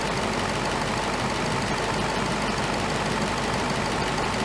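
Car engine idling steadily during a check of an overfull coolant reservoir and suspected bad radiator cap, a loud continuous close mechanical rumble with no speech.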